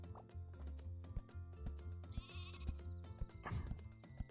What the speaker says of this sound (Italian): abbiamo una pecora